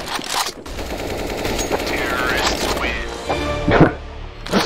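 Rapid CS:GO gunfire crackles in bursts, loud and close, with sharp repeated shots and a brief pause midway before more firing.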